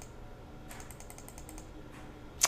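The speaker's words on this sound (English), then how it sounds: "So I'm just going to start clicking fast" Rapid computer mouse clicking, a quick run of about ten faint, evenly spaced clicks, then a brief pause and a louder single click at the end.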